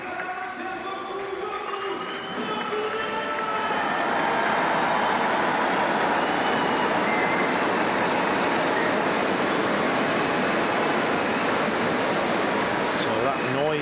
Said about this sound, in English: it's actually the supporters, the spectators stamping their feet on the ground